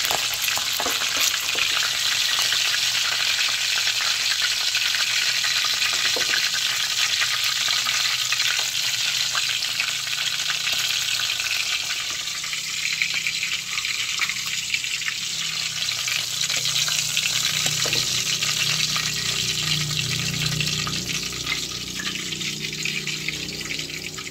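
Fish frying in a pan of hot oil gives a loud, steady, close sizzle with bubbling and crackling that never stops, and no voices over it.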